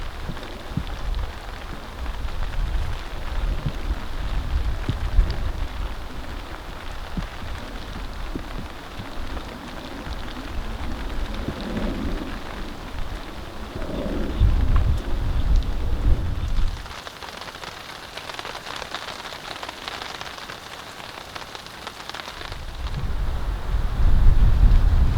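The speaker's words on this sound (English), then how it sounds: "rain and ice is coming in" Rain drums steadily on a hot tent at a snowy winter campsite, with low thunder rumbling in bursts partway through and again near the end, fairly loud and continuous with no voices.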